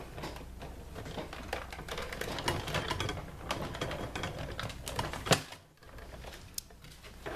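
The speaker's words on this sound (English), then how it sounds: "put that in our machine with the frame over the top, and we'll go ahead and cut both at the same time" A tabletop die-cutting machine cranks Melon Mambo cardstock and a stitched frame die through its rollers, giving a steady, dense rattling grind that runs throughout with one sharp louder clack near the end and no talk.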